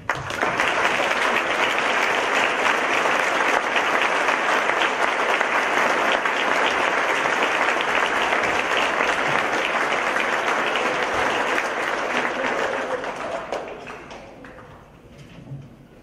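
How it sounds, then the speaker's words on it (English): Audience at a school spring band concert claps loudly and steadily for most of the stretch, then the applause thins and fades away toward the end. "Stand up and appreciate our applause"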